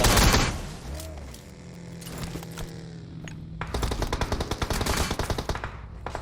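Gunfire in the mobile video game PUBG Mobile, heard during a squad match. A loud opening shot is followed by scattered single shots, then dense rapid automatic bursts at the end.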